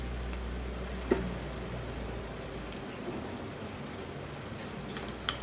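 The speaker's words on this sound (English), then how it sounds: "It has been 5 minutes that I'm sauteing." Onions and spices sauteing in hot oil for misal pav, a Maharashtrian dish, after five minutes on the heat: a steady, soft, rain-like sizzle with faint crackles and one small clink, no voices.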